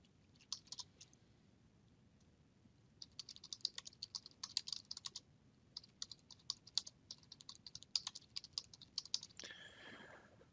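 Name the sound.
typing on a computer keyboard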